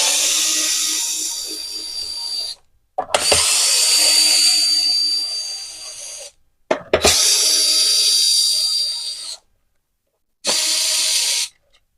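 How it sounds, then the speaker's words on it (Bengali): Electric screwdriver unscrewing the casing of a broken blender, loud whining bursts of motor spin, three long runs and a short one separated by brief pauses, close to the microphone with no talk. "দেখতে পাচ্ছেন আমরা ইলেকট্রিক স্ক্রুড্রাইভার দিয়ে এটাকে খুলে নিচ্ছি।"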